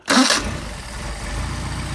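Mercedes 190SL with Solex carburetors starting hot, a short burst of starter whirr that catches at once and settles into a steady, close, mid-pitched idle.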